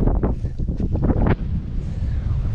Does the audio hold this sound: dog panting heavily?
no